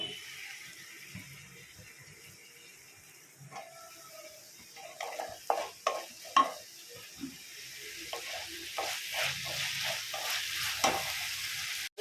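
Eggplant and drumstick pieces are added to a hot pan and stirred, sizzling with scraping stir strokes and clatter, the frying growing busier and louder toward the end.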